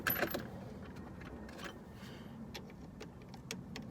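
Metal sockets from a socket set clink and rattle as they are handled while searching for a 19mm size for a steering wheel job, with a sharp jangle at the start and scattered light metallic ticks after, close and moderately quiet.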